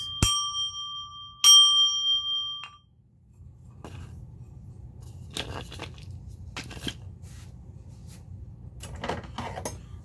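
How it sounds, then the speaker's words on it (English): A Tibetan bell is struck twice during a reiki energy healing session, each strike a bright sustained metallic ring that decays over a second or so, followed by faint low hum and a few soft clinks and rustles. "Send you harmony from a Tibetan bell"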